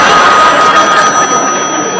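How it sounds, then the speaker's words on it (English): A telephone rings with a bright, steady electronic trill, loud and close, for about two seconds. "I just figured if I opened my mouth that the phone would start ringing."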